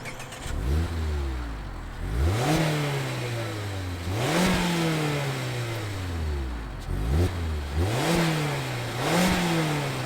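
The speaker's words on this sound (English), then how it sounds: "let's fire up this 2-liter and hear what it sounds like" A 2021 Mazda MX-5 Miata RF 2-liter engine cranks and catches, then revs repeatedly in rising, falling bursts, each throttle blip climbing and settling back to a low idle rumble.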